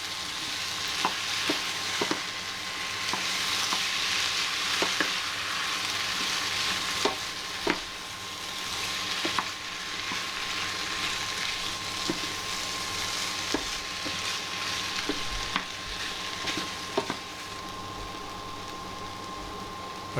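Chopped tomato sizzles and fries in a pan for a Burmese prawn curry, a steady crackling hiss broken by regular clacks and scrapes of a utensil stirring, with no talking.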